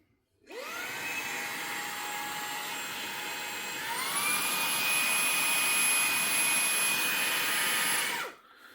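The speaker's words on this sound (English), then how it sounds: "it sounds just like a regular vacuum, but smaller" A small handheld vacuum blower motor whirs up to a high whine, steps up to a higher speed midway, then cuts off and spins down.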